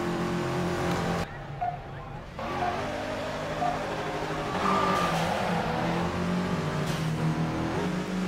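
Race car engines in the Midnight Club 3: DUB Edition Remix video game, Mitsubishi Lancers among the field, roar steadily throughout with rising revs and brief whooshes of cars passing, plus a short muffled dip partway through.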